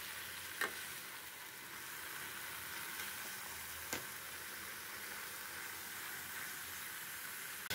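Boiled cabbage stir-fried with spices in a pan for cabbage ghanto with prawn, giving a steady, close sizzle with faint scraping stirs and a couple of sharp utensil taps; no talking.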